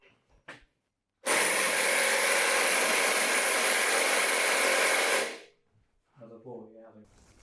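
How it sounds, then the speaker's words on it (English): An impact wrench hammers away at a scooter clutch nut in one sustained loud burst of about four seconds, with brief talk before and after. "I'll try it with this impact wrench"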